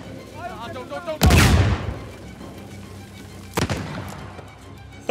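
Two loud, sharp gun blasts of blind fire in Uncharted 4, spaced a couple of seconds apart, each with a short echoing tail over quieter game ambience.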